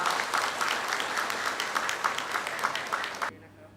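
A crowd of business guests claps loudly at a third-anniversary celebration for PNK Global. The steady, dense clapping lasts about three seconds under a light voice, then cuts off abruptly.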